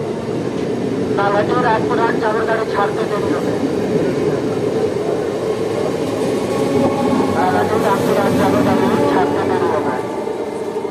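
A local train pulls away from a station platform with a loud, continuous rumbling roar, rhythmic wheel clatter and squeals rising over it, while voices murmur throughout.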